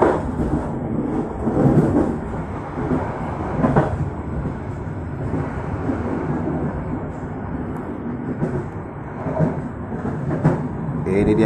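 Train ride passing through Cilame station in Indonesia, a steady loud rumble of the moving carriages with rhythmic clatter and swells throughout, heard from inside the train.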